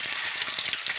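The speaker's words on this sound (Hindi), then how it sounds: "आप लोग देख सकते हैं तेल हमारा अच्छे से गर्म हो गया है, हल्का हल्का तो धुआं निकलने लगा है तेल में से। इसमें मैं डालूँगी सारे एग" Eggs dropped into smoking-hot oil in a pan for egg curry give a steady, dense crackling sizzle, loud and close, with faint irregular pops throughout and no voices.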